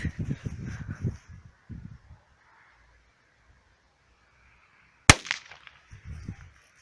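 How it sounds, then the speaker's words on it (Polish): A single small piccolo-type flash firecracker goes off outdoors with one sharp, loud crack after quiet rustling, followed by a short fizzing tail and faint handling noise. "Petardy błyskowe."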